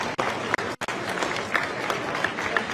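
Crowd applause for an award recipient at an NCAA Division II women's cross country championship, a steady wash of clapping with a few brief dropouts, moderately loud and continuous.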